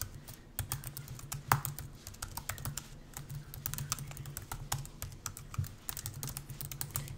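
Fast typing on a computer keyboard while writing code, a dense patter of sharp key clicks with brief pauses, close and alone with no voice.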